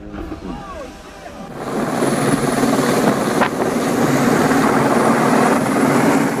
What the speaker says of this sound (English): injured cows unable to descend from high pastures were airlifted by helicopter to safety